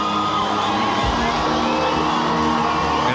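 A boxing arena crowd roars steadily and loudly, cheers and whoops blending into a dense wall of noise with a brief low thump partway through.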